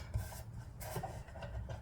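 Scissors cutting a strip of paper nearby, producing a few short crunchy rasping strokes in quick succession over a low background rumble.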